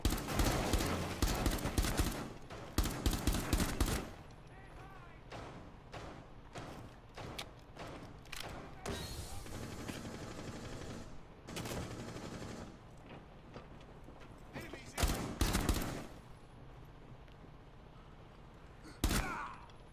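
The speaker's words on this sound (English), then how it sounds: "You'll see how they're trying to shoot through the walls." Gunfire in a Rainbow Six Siege-style terrorist hunt as enemies shoot through walls: loud bursts of rapid shots at the start, scattered thumping impacts through the middle, and sharp volleys near fifteen and nineteen seconds.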